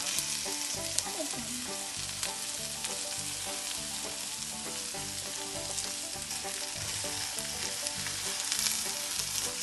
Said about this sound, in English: Now we're gonna stir fry it.